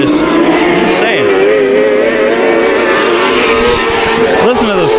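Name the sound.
high-pitched race car at Bakersfield Speedway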